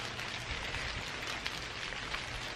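Light rain falls steadily, a soft even patter of drops on the ground, quiet and continuous with no voices.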